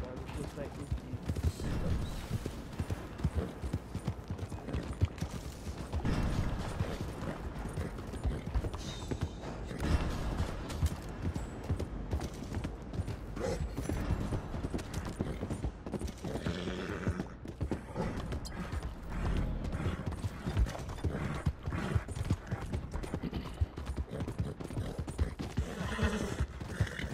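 Horse hooves clip-clop at a steady pace with whinnies in a video game, set against a dense, busy mix with bursts of gunfire throughout.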